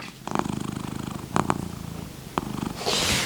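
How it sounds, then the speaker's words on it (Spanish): A cat sleeping on top of a MacBook Air laptop purrs steadily and close, a rhythmic rumbling purr broken by a few small clicks and a brief rustle near the end. "se me ha puesto mi gato a dormir encima"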